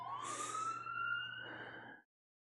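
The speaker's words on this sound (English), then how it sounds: "That was ambulance number 1." An ambulance siren passes close by, a loud sustained wail with a hissing burst and low engine rumble underneath, ending suddenly after two seconds.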